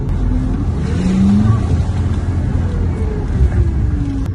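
Car engine revving hard while the vehicle stays stuck and fails to move during a police evacuation of residents, pitch rising and falling in strained surges; loud and close throughout.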